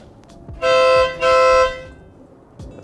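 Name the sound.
air horn on a car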